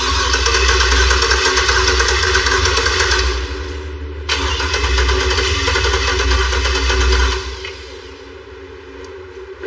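A turbocharged Cadillac truck engine cranks and catches into a loud, close, steady running roar, with a brief dip partway through before it settles and fades toward the end, with nothing else over it.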